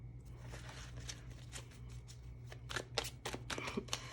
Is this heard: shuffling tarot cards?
yes